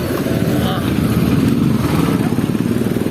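Motorcycle carrying three riders moving along a road in Hyderabad, its engine droning steadily and loud throughout, with wind rumble and some voices mixed in.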